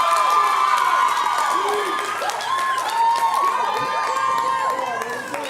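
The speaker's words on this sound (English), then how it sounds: "Come on, you can cheer." A conference audience cheers and whoops with loud, sustained shouting and applause from a large crowd, continuing throughout.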